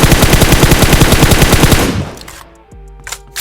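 Rapid automatic gunfire in PUBG Mobile, fired while crouching, rattles in a loud, even burst of closely spaced shots for about two seconds, then stops, leaving a few faint clicks and thuds.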